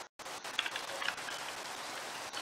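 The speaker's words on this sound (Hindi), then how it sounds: "ये रहा बारिश का मौसम" Steady rain falling in Minecraft with shaders, a dense even hiss of drops on the ground after a brief silent gap at the start, with no talking.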